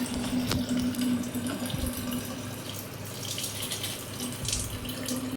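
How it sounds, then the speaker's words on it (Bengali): Water gushing steadily from a tap into a container being filled in a home kitchen, a continuous close splashing stream with a low hum underneath, ending abruptly. "জলগুলো ভরে নিচ্ছি। অনেকগুলোই জল ভরেছি, এটা একটা ভরে নিই ব্যাস।"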